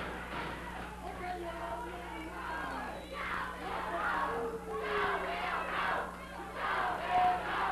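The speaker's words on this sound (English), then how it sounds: "Crowd chanting." A crowd chants and roars at a pro wrestling match, a steady wash of many voices with rising surges of shouting, heard somewhat distant and reverberant, as if from an arena.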